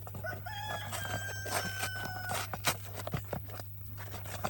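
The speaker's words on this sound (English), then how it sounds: "Our rooster telling everyone it's time for bed." A rooster crows near a salt water pool, a loud, rising cock-a-doodle-doo call repeated over steady background hum and scattered clatter, with no talking.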